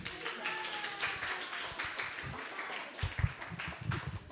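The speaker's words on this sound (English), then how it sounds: "Give please another round of applause." Applause and clapping from an audience after a children's kirtan at a temple gathering, a dense patter of claps building stronger toward the end.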